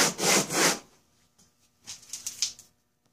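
Polaris cylinder head being sanded with 80 grit sandpaper, short scratchy rubbing strokes in two clusters separated by a quiet pause, close and fairly soft.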